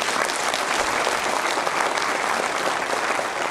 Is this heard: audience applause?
yes